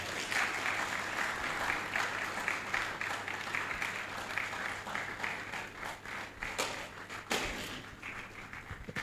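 A crowd at the Rethink Africa 2025 event keeps up continuous applause for about nine seconds, with a few sharper thumps and taps standing out from the dense clapping.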